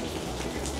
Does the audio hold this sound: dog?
no